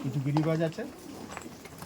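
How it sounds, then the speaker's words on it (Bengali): Giribaz pigeons paired in a loft give a soft, low cooing call near the start, brief and close, followed by quieter background. "এখানে জোড়া পায়রা আছে"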